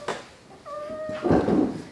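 A pet cat meows once in a clear, drawn-out tonal call at close range, followed by rustling handling noise and faint background voices.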